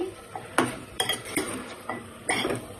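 A spoon stirs keema and bones in a pan as the curry fries, scraping and clinking against the metal in several distinct bursts, close and moderately loud, with a faint sizzle between strokes.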